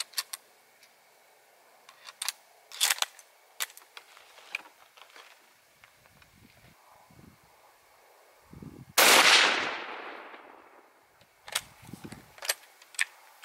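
A single loud rifle shot from a worn Yugo Mauser firing 8mm Czech surplus ammunition at an outdoor range, a sharp crack with a rolling decaying tail, amid scattered clicks and handling noises from nearby.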